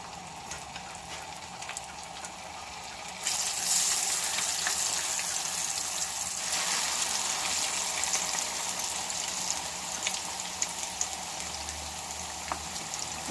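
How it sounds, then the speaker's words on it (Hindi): Potato chips for masala fries drop into hot oil and burst into a loud, bright sizzle that stays steady and close, with faint scattered pops and no talking. "और ये चिप्स मैंने इसमें डाल दिए हैं और अब इसको फ्राई करते हैं"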